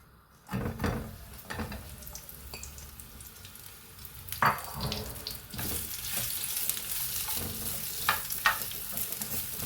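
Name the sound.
nuts frying and being stirred in ghee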